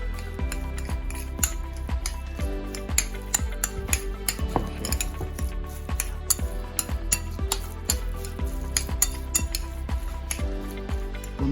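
Mayonnaise being stirred into chopped salmon for a sushi maki roll, giving a steady run of quick, close scraping and clinking strokes of utensil against bowl, with no talking.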